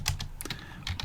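Typing on a computer keyboard, a few quick soft key clicks in a short uneven rhythm, close and fairly quiet.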